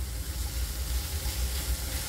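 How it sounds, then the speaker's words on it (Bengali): Drumstick flowers sizzle steadily in a pan as they are stirred for a poppy-seed dish, a continuous close hiss of frying with low rumble underneath and no voices. "জাস্ট একটু নেড়ে ছেড়ে নেবেন, সজনে ফুলকে খুব ভাজার দরকার নেই"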